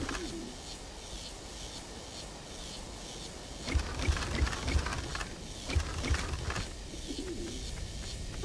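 Pigeons coo in the PS2 game Asterix at the Olympic Games, soft repeated calls at moderate distance over a low ambient bed, with a few louder bursts midway.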